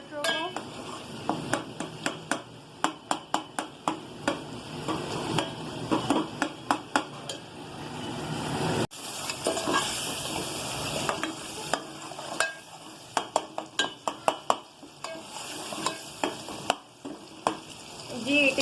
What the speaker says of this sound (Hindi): अब चूल्हा तेज कर दूंगी मैं। और अच्छे से भुनाई कर लूंगी,